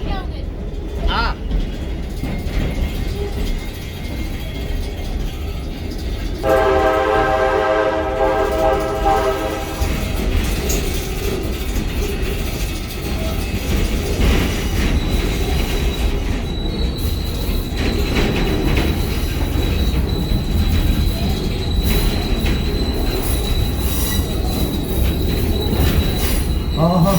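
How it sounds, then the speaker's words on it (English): A train horn blares for several seconds over the rumble and squeal of rail cars rolling in at Stone Mountain, with people talking faintly underneath. "that train horn we just heard"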